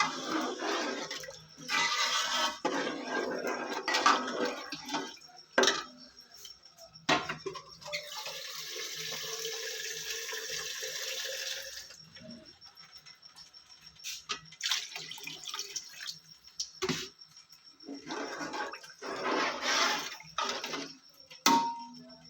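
Water poured into a pot of fried peas and potatoes for spicy matar pulao, a splashing, running pour in several bursts with quieter gaps between, close by and moderately loud.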